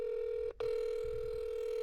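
A telephone call tone hums as one steady, even pitch that drops out briefly for a click, then carries on unbroken and fairly quiet with no talk over it.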